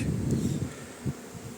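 Honey bees hum at an open beehive in an apiary, a steady low drone close by. It runs through the whole brief moment with faint rustling and no voices.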